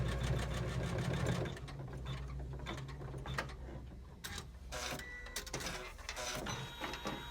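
An embroidery machine stitches through thick leatherette, cork and vinyl, a fast rhythmic mechanical chatter with a low motor hum, fairly faint and continuous.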